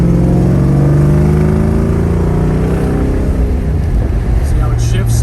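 A 1972 Chevrolet Chevelle engine pulls loudly with rising and falling harmonic tones as it runs up through a gear change, steady and close throughout, with faint talk in the background.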